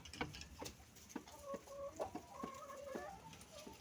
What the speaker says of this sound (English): Now the birds are enjoying.